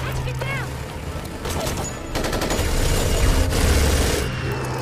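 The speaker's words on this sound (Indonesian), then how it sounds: "Di tengah aksi tembak-tembakan" Rapid gunfire rattles through a chaotic action scene from the film Resident Evil: Apocalypse, with bursts of shots, crashes and booms layered over loud background noise.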